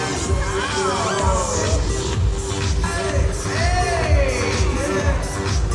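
An audience on a comedy cruise show laughs and cheers in a steady crowd roar, with whoops and scattered shuffling.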